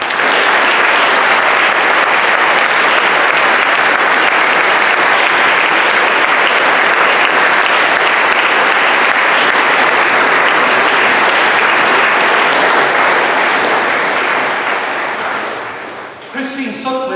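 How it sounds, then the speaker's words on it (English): Long, loud, sustained applause from a school prizegiving audience in a hall, a thick continuous roar of clapping that fades at the end as a speaker's voice returns. "Let us applaud Mr Macmillan."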